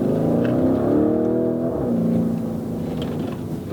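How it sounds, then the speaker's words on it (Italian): A Lamborghini Urus engine roars loudly and steadily close by, its pitch shifting as it revs, with no clear separate exhaust pops. "Scoppi ineguagliabili al rilascio del gas"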